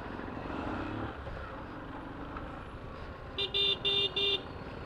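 Congested road traffic with a low engine rumble and passing vehicles, then a run of four short, bright car horn toots close by near the end.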